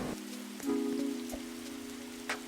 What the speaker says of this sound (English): Oh, what a nice rainy day.